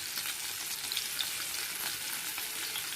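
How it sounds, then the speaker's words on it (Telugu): Dried prawn shells fry in a pan for a gongura prawn-shell chutney, giving a steady, even sizzle with a soft hiss throughout, close and moderately quiet, with no voices. "వాటిని గోల్డెన్ ఫ్రై కలర్లో వచ్చేలాగా వేయించుకోవాలి"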